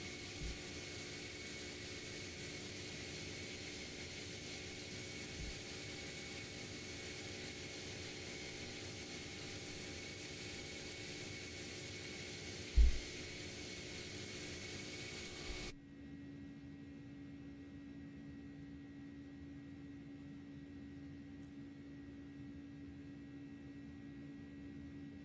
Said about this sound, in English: I was so looking forward to these engines sounding good